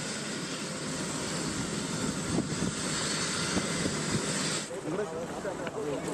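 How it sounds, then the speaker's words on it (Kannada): Helicopter carrying a politician arriving at Kumbakonam, Tamil Nadu, heard as a steady loud engine and rotor roar with wind buffeting, continuous throughout and shifting slightly near the end. "ತಮಿಳುನಾಡಿನ ಕುಂಭಕೋಣಂಗೆ ಹೆಲಿಕಾಪ್ಟರ್ ಮೂಲಕ ಡಿಸಿಎಂ ಡಿಕೆ ಶಿವಕುಮಾರ್ ಅವರು ಹೋದ್ರು"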